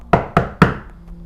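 Three sharp knocks on a hotel room door in quick, even succession, close and loud, each ringing briefly before fading into a quiet room.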